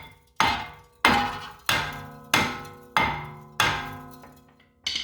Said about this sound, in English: you're going to want to give a few cracks all around this thing to break the rust